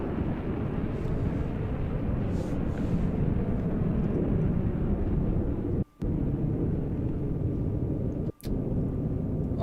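An F-18 jet flies a display in a Roblox airshow game with a steady low roar that cuts out twice in brief gaps.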